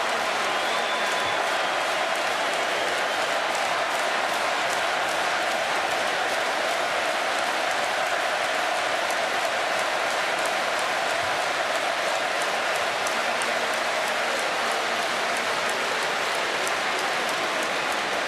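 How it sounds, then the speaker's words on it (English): Sustained, dense applause from a large crowd of hockey fans fills an arena after the World Junior Championship gold medal final, a continuous even roar of clapping without pause. "These fans haven't stopped clapping for the last 10 minutes."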